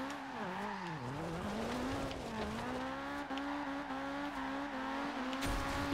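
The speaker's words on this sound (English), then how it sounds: "You can't beat the sound this car makes either." A Subaru BRZ race car engine in the video game Forza Horizon 2 drones steadily with shifting pitch while tires squeal through a long drift, with no talking.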